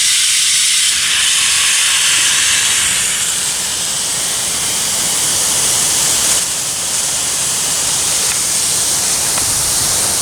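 Garden sprinkler heads running at full power, throwing water over trees and shrubs; a steady, loud broadband hiss and spray that continues unbroken throughout with no voices.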